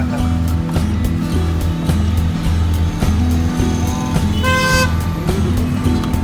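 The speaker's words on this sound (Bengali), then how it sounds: "অ্যান্ড আমরা টেস্ট ড্রাইভ করছি" A car on a test drive heard from inside the cabin, with a steady low engine and road rumble throughout and a brief tonal horn-like note near the end, no talk.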